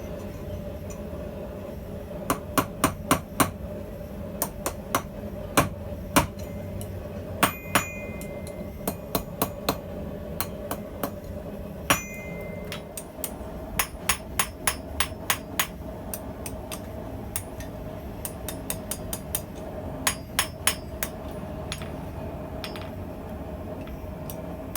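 Hammer blows ring out on metal over a small bread loaf anvil while forging a trammel hook, the sharp strikes coming in quick clusters and short runs with brief pauses between, close and clear over a low steady hum.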